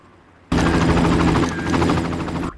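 Helicopter in the Far Cry video game, a loud, steady rotor roar that starts abruptly and holds for about two seconds with no talk over it.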